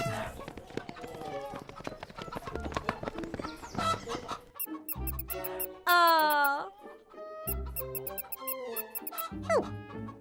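Cartoon guinea pig in a children's stop-motion play-dough show, giving high squeaks in short bursts, with quick clip-clop sounds and music between.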